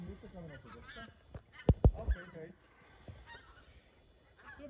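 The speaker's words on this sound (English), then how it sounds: "here come some of the geese. I think they're gray gags is what they're called." Greylag geese honk as they fly overhead, a few loud close calls clustered in the middle, with fainter honks before and after and a person speaking quietly underneath.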